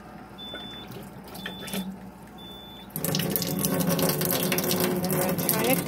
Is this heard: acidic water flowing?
yes